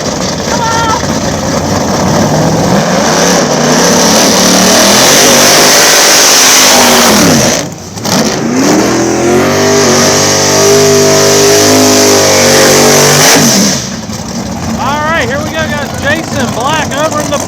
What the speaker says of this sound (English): Jason Black over in the boosted Camaro, taking on Kyle Wright here in the nitrous Mustang.